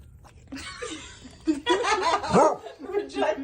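A dog reacts after tasting sparkling water, giving short yelping, bark-like sounds at close range, mixed with laughter and lively talk from people nearby.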